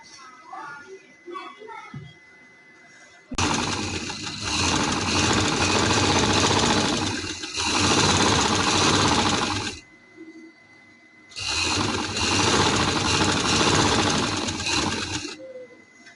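A sewing machine stitches a cuff sleeve, running loud and close in two long bursts of several seconds each, with a short pause between, after a quieter stretch with faint voices at the start.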